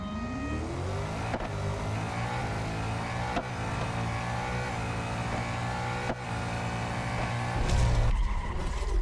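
Race cars launching in a drag race in Real Racing 3, engines droning steadily with rising gear pitches and a few sharp shift changes, swelling louder near the end.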